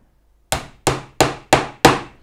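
Five sharp, evenly spaced hammer blows drive inch-long round-head nails through a wooden National beehive roof wall into a lath, close and loud with quick decay.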